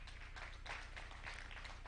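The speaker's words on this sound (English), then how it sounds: "Let us give Wilberforce another round of applause" Polite applause from a conference audience at a financial inclusion statistics event, a modest crowd clapping steadily, faint and somewhat distant with a low hum beneath.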